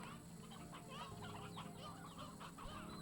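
Chickens cluck steadily in the video game Slime Rancher 2, several birds chattering together over a quiet, constant background hum, with no talking.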